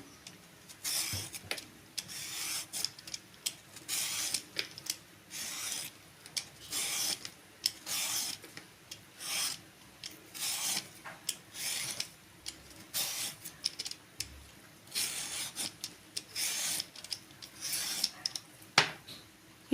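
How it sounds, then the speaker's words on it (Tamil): Raw green plantain skin being shaved off with a blade, heard as repeated close, dry rasping scrape strokes in quick irregular bursts with no voices. "ஃபஸ்ட்டு நம்ம இந்த தோலெல்லாம் எடுத்துடலாம்"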